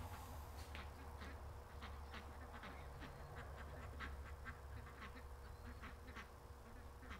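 Canada geese calling at a backyard feeder, faint and distant honks repeating in a loose rhythm over a soft background hiss.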